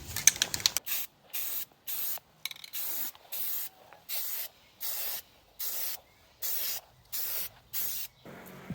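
Semi-gloss protective enamel sprayed onto a metal lifting bar in short, regular hissing bursts, about a dozen close spray pulses separated by brief pauses.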